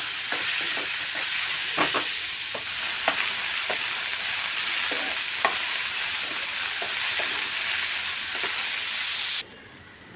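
Grated garlic, ginger and chili fry in oil with onion, giving a steady loud sizzle with sporadic spatula scrapes. Near the end the sound cuts off abruptly to a quiet room. No one talks.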